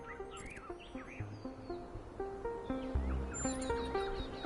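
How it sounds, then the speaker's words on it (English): Birds chirp in a video game's outdoor setting beyond a dome, short bird calls repeating over a steady low ambient bed and soft musical tones, moderately quiet and somewhat distant. "Do you hear the birds chirping outside the dome?"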